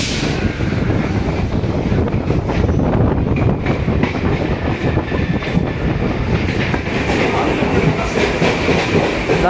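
Loud, steady rumble inside a moving non-AC MEMU local train on the Chennai Beach to Tambaram line, with continuous rattling wheel noise and airy rushing throughout.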